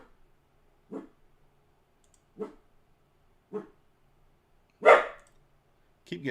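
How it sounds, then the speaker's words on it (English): A dog barks indoors after waking, five separate sharp barks spaced about a second apart, the fourth loudest, with quiet room tone between them. "He's waking up like, what up? It's time to bark."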